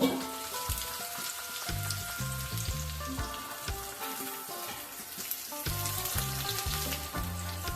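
Capsicum pieces fry in hot oil in a pan for Bengali-style doi capsicum, giving a steady, dense sizzle that crackles continuously close by with no talking over it.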